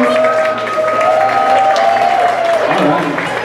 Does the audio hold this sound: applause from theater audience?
yes